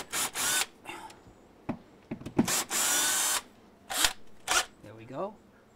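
A power drill backs hinge screws out of a door, giving several short, loud buzzing bursts with pauses between them and a voice briefly heard near the end.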